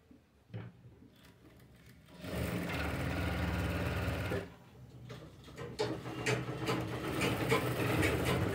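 Close, fairly quiet stitching on a blouse back neck from a sewing machine, two bursts of rapid mechanical whirring separated by a short pause.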